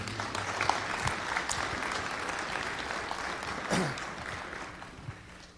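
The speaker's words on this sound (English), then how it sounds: "We could clap for them." A school gym crowd at an athletic signing day breaks into sustained clapping, a dense patter of many hands that stays fairly even before tapering off near the end.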